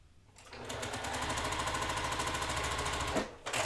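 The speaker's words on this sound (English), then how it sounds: "Now we're going to sew the other side." A sewing machine stitches quilt rows together in a fast, steady mechanical rattle that runs for about three seconds at close range, then stops briefly and restarts.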